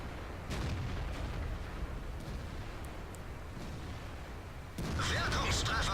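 Tank cannon fire in a tank battle video game comes as dull, booming shots layered over constant engine rumble and battle noise. A louder blast lands near the end.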